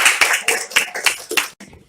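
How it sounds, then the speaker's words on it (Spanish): Audience applause at a lecture on political caricature: a brief burst of claps in an irregular rhythm, fairly close, that stops abruptly and leaves quiet room tone. "Démosles un aplauso."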